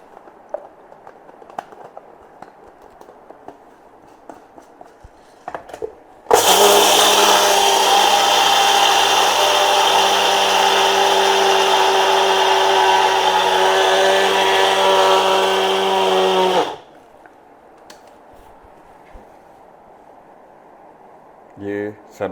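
An electric grinder reduces sunflower seeds to fine powder, a loud steady whirring motor roar running about ten seconds with abrupt start and stop, bracketed by quieter kitchen handling and brief talk.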